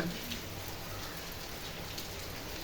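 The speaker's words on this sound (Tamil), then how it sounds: "எங்கள் ஊரில் நல்ல மழைங்க" Heavy rain pouring down in a Tamil village, a dense, even hiss of falling drops at moderate distance that holds steady throughout, with no voices.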